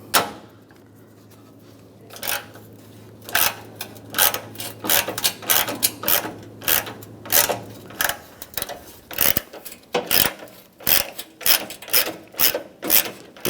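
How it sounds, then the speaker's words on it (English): A ratchet with a 10mm socket loosens a bolt on a 1997-2001 Honda CR-V headlight bracket, giving quick close clicking strokes in an uneven rhythm after a quieter start. "you want to loosen this bolt up. Use a 10mm socket."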